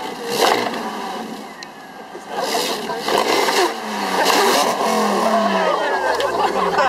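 A four-cylinder Honda engine revs on a Friday night street in Northern Virginia, rising and falling in bursts close by, with people talking over it.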